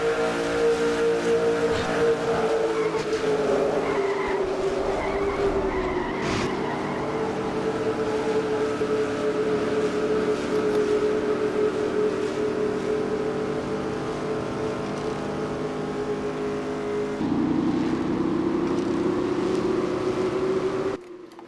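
Racing trucks roar in a sim racing game from an in-truck camera, with a loud, steady engine drone holding pitch and briefly dipping before climbing again near the end, with no talk.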